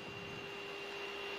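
Jet engines of an Airbus A340 on the takeoff roll at St Maarten, heard from inside the cockpit as a steady roaring hiss with a sustained high whine, continuous and without speech.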